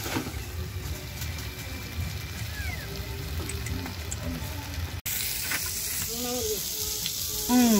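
Round-sliced potatoes sizzle in a frying pan in a home kitchen, a steady, close crackle of hot oil that shifts and grows livelier after a brief break midway.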